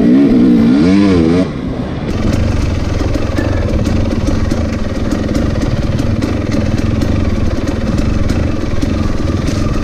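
A Husqvarna TX300 two-stroke dirt bike with a Keihin PWK carburetor idles loudly and close by while rolling downhill, a steady rough burble with a faint rhythmic ticking throughout and no talking.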